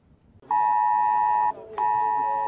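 The IT-Alert national public emergency alert test tone sounds as a loud, steady electronic beep held for about a second, a brief gap, then the tone resuming, close and alone.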